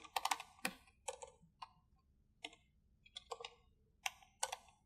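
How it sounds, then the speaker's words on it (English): Clicks from a computer keyboard come in quick irregular bursts separated by short pauses, close and fairly quiet with no talk. "then we can start typing"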